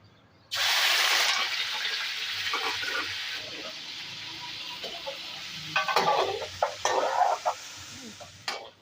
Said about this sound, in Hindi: उसी ऑयल में अब हम चिकन ऐड कर देंगे और चिकन की क्वांटिटी है हमारे पास 1 kg।